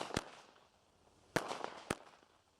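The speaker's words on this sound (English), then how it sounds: "Once you have what you need to light your fireworks safely," Fireworks or firecrackers pop outdoors at a distance: three sharp separate bangs, each trailing a short rumble, with quiet gaps between them.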